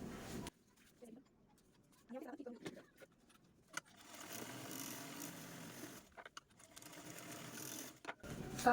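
A sewing machine stitches a cloth bag, whirring in short, quiet bursts separated by pauses while someone talks softly in between.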